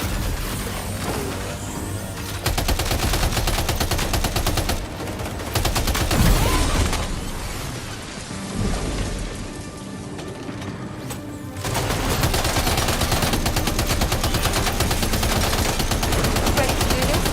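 Sustained bursts of automatic gunfire in the video game Death Stranding 2: On the Beach, loud and dense, with a brief lull in the middle before the rapid firing resumes.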